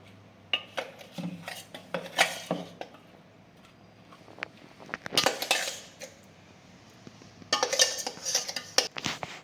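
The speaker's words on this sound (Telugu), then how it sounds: "ఇప్పుడు ఇదంతా కూడాను మనం ఇందాక రాగిపిండి వేయించి పెట్టుకున్నాం కదా ఆ బౌల్లోకి తీసుకుందాం" Ground ragi mixture being transferred into a bowl of roasted ragi flour for laddu: metal spoon scraping and clinking against steel dishes in irregular bursts with quiet pauses, close and fairly loud.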